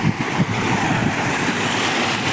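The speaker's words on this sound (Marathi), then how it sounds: "हे बघा इथं ओढ आहे" A mountain stream on the Harichandragad trek in the monsoon rushes with a steady, loud broadband roar, mixed with some wind buffeting the microphone.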